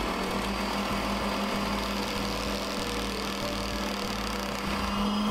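A Quilters Choice sewing machine winds a bobbin with a steady, fast motor hum that holds at an even pitch and loudness throughout, close to the microphone and without speech.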